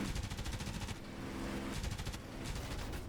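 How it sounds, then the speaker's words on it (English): Machine guns firing in a P-51 Mustang dogfight video game, a fairly quiet and steady rattle of repeated rapid bursts over a continuous engine drone, with no talk. "Let's get on with the guns. He's shooting. I'm shooting."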